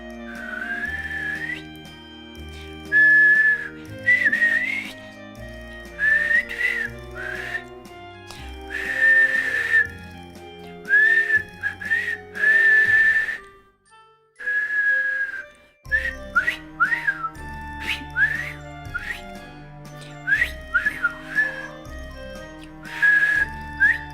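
A person whistles a melodic tune in repeated short phrases with brief pauses, over steady background music with a low bass line; the whistling is clear and prominent, with a short gap midway.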